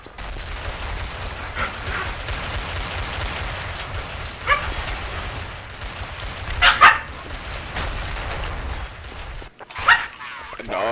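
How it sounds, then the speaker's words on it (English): A dog barks in a few short bursts amid steady Counter-Strike: Source gun game gunfire and game noise, with a voice talking over much of it. "Dog's going at it."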